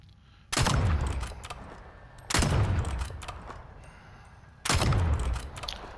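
In a video game, a Strider 300 gun fires three loud bursts about two seconds apart, each a heavy rapid volley with a low booming tail that fades before the next.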